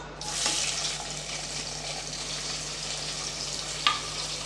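Three medium onions, sliced thin and long, sautéing in a pan for vegetable biryani: a steady, soft, even sizzle throughout, with one small metallic clink near the end.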